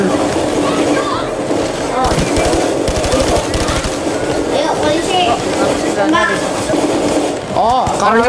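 Rapid automatic gunfire in the heist shooter Payday 2, loud bursts of repeated shots across most of the stretch, with people talking over the top of it.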